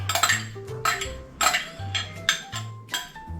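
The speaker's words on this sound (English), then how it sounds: "I probably should be using a whisk, but we're gonna use the spoon" A spoon stirs caramel roll batter in a mixing bowl, giving a run of repeated clinks and scrapes against the bowl in an uneven rhythm, close and fairly clear, with no talking.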